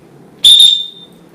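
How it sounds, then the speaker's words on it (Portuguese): A single sharp referee-style whistle blast, loud and close, held for about half a second and then trailing off, with no one talking over it. "Esse apito tá meio estranho"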